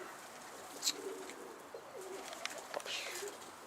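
Soft, faint cooing from a Kartal breed game pigeon, a pigeon with big wings, with a brief brighter note near the start, heard alone in a quiet outdoor setting.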